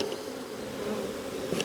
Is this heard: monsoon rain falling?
no